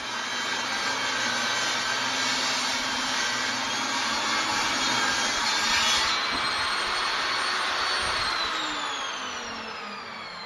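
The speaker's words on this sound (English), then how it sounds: "over on the table saw, the opposite edge was cut off at the intended 9-inch width" A table saw rips the edge off a wooden board to a 9-inch width for a wooden boat keel, a loud, steady whining roar that holds for about ten seconds before easing slightly at the end.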